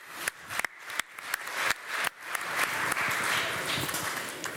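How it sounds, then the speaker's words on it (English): Scattered applause from a conference audience in a hotel-industry talk, starting with a few separate claps and swelling into fuller, moderately loud clapping. "give yourself a big applause"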